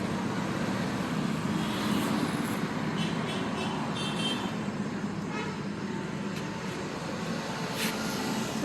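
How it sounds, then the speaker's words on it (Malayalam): A modified Royal Enfield Bullet motorcycle with a loud aftermarket silencer runs steadily, its engine giving a continuous, close, thick rumble that holds at a constant level throughout. "സൈലൻസർ കുറച്ചൊരു സൗണ്ട് ഉള്ളത് വേണമെന്ന് പറഞ്ഞുകൊണ്ട് സൈലൻസർ വെച്ചിട്ടുണ്ട്."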